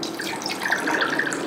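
Bottled gallon drinking water pours into a container for a water quality test, a steady close splashing trickle running alone throughout.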